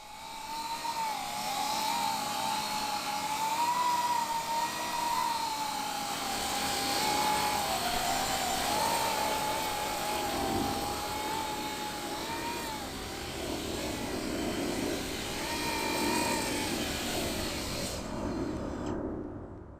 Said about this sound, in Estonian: ma pole kunagi varem lennutanud drooni, mis hõljuks sellisel õhupadjal